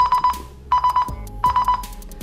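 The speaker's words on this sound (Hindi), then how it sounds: "अभी फोन बज रहा है" Mobile phone ringing after the find-phone feature on a budget 116plus smartwatch is triggered, a loud, close ringtone of repeated bursts of rapid electronic beeps with brief pauses between them.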